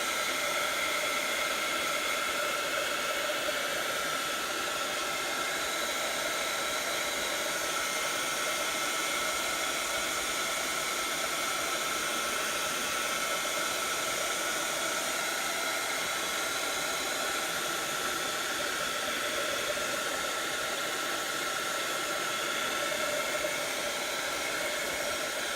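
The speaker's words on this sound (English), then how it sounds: "you can use your hair dryer or a heat gun." A hair dryer blows steadily on a wet Bible page, a constant loud whooshing hiss that holds unchanged for the whole stretch.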